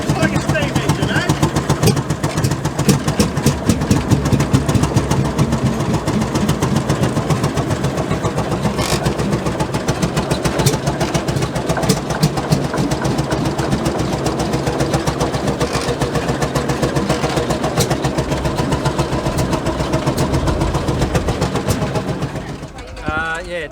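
A 1937 McDonald vintage engine built in Melbourne runs steadily at a Western Australian vintage field day, a continuous close chugging drone under voices and crowd chatter, cutting off near the end.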